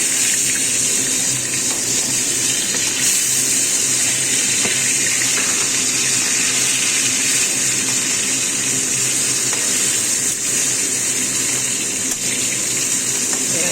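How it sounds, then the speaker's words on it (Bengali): Rohu fish frying in a pan for a simple fish curry, giving a steady, even sizzling hiss that holds at the same level throughout, with no talking. "আগে মাছটা ভাজা হোক দিয়েছি, তারপরে এটা রান্না করবো। এবার একটু উল্টে দেবো মাছটা।"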